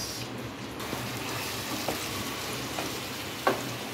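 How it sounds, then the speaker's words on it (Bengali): Fried potatoes with a splash of water sizzle steadily in a pan while being stirred, a continuous close frying hiss with soft scraping and one brief clink near the end. "অল্প দিয়ে একটু নাড়িয়ে নেবো"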